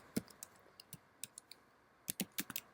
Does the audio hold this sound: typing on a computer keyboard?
yes